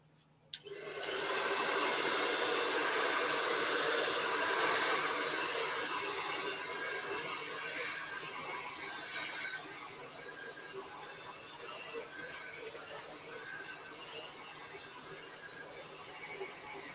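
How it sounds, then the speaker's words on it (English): A blow dryer runs steadily to dry wet paint on a Christmas penguin painting, a loud continuous whoosh that starts abruptly and eases slightly partway through, with no talking. "All right, here we go. Blow dryer."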